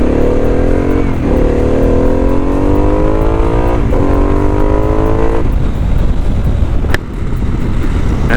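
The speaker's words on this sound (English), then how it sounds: "It makes what can only be described as awesome liquid-cooled V-twin" A liquid-cooled V-twin Harley-Davidson Pan America fitted with a Vance and Hines exhaust, ridden: loud, rumbling engine note rises through gears in repeated accelerating sweeps under heavy wind roar.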